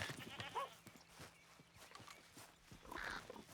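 A goat bleats a couple of times in the video game Red Dead Redemption 2, short wavering cries at moderate distance against a faint steady hum and scattered clicks.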